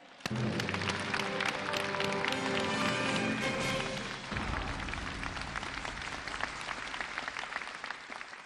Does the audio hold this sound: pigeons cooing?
no